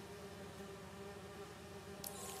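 Steady insect-like buzzing of bees in the Spider-Man 2 video game, a continuous close drone with a brief brighter burst near the end, no voices.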